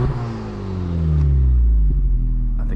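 A Honda Civic Type R FL5 gets a couple of brief revs, its exhaust rising to a deep, swelling growl that holds loud and then settles back toward idle, with a hint of voice in the background.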